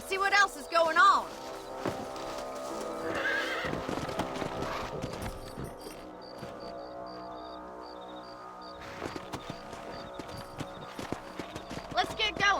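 Horse hooves clip-clop in the Red Dead video game, a steady trotting rhythm under a whinny and voices talking, with a game score playing in the background.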